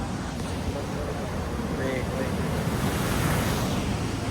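Water rushing and churning like surf, buffeted by strong wind against the microphone, forming a continuous loud roar from start to end.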